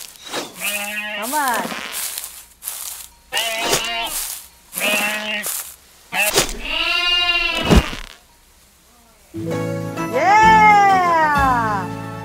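Several bleats from a sheep in a video game, loud and close, in short bursts separated by pauses, with a person speaking briefly between them.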